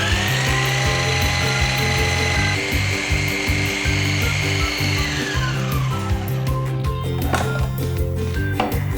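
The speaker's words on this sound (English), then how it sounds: "I'm going to add this in, and I'm going to make a coarse powder out of it" Soaked rice being ground into a coarse powder for Kerala puttu in an electric grinder: a loud, steady motor whine with rattling blades, its pitch shifting as the grind proceeds.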